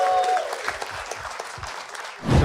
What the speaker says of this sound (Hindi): We'll start clapping for Piyush, Rishabh and Shrey.